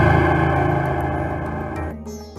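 A space sound effect from the Scratch sound library plays: a loud, ominous, processed drone thick with distortion and echo. It holds steady, then fades into a thinner, ringing tail near the end.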